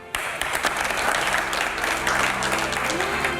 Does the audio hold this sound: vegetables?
no